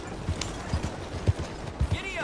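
A horse's hooves clop in a loose, uneven rhythm close by as the rider coaxes the mare forward, with a brief whinny-like sound near the end.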